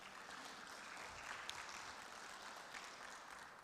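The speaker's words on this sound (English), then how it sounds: "definitely give it a round of applause" Faint, distant applause from a conference audience after a talk at a blockchain event, a soft continuous patter of clapping with no speech over it.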